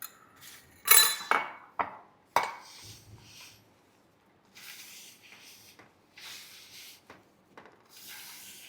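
Besan laddoo mixture gets stirred and pressed in a bowl, giving sharp utensil clinks and scrapes that come in bursts. Quieter rubbing and gritty swishing follow, broken by short pauses.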